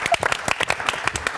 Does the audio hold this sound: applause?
yes